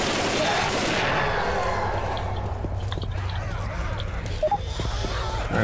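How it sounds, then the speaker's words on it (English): Rapid gunfire in the zombie shooter Left 4 Dead 2, with loud sustained bursts at the start, then scattered shots under game noise. "Quit shooting me"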